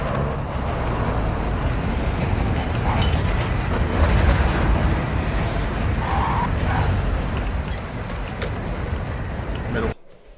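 Heavy rumbling train-like drone from the ghost train in Call of Duty MWII DMZ, a loud continuous low rolling roar with metallic clatter above, swelling slightly midway before cutting off abruptly near the end.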